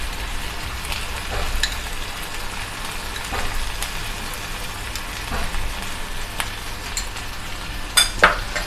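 Whipped sour yogurt goes into chicken korma frying in a pan, giving a steady soft sizzle with occasional stirring scrapes and small clatters near the end.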